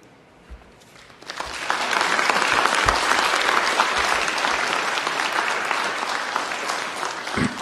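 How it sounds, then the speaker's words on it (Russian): An audience breaks into applause after a second of quiet, building to a full, steady roar of clapping that carries on evenly to the end. "Аплодисменты."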